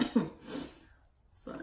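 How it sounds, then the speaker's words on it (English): A woman with a cold gives a couple of short, dry coughs close to the mic, followed by a soft breath and a brief pause before another faint cough begins. "Now I got this dry cough that don't go away."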